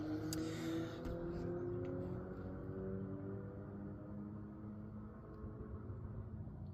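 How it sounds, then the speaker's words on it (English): A Jeep TJ engine held high against its rev limiter, a steady strained drone with faint stuttering, moderately distant and unchanging throughout, with no talking. "Well, I hit the rev limiter."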